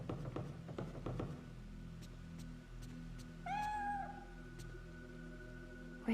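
A single drawn-out cat meow from the video game Fatal Frame 3 rises and falls in pitch midway, clear and alone against a quiet low hum, after a few faint knocks.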